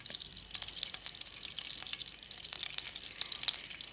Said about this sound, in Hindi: अब मैं इसी तरह तमाम कबाब को तैयार कर लेता हूँ और शैलो फ्राई कर लेंगे।